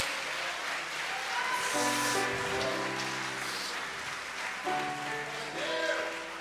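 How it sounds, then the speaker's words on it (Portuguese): A church congregation applauds during a Portuguese-language sermon, producing a soft, steady wash of clapping under sustained music chords, moderately distant and fairly quiet throughout. "aplauda o Senhor, porque Jesus merece o nosso louvor."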